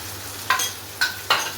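Ginger-garlic paste fries in a pan with a soft steady sizzle, broken by three quick scraping strokes of a spatula spaced out over the short stretch, with no one talking.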